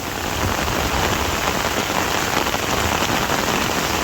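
Steady, heavy rain pours down on a farm in a dense, continuous hiss, drumming evenly on surfaces all around.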